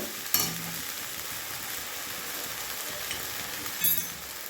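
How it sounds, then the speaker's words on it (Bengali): A spice paste of ginger, garlic, green chili, onion and tomato fries in a pan for crab malaikari, a soft, even sizzle held throughout with a couple of brief stirring knocks, quiet and close, no voices. "যেটা আছে আদা, রসুন, কাঁচা লঙ্কা, পেঁয়াজ আর টমেটো, মশলাটা আমি ভালোভাবে কষে নেব।"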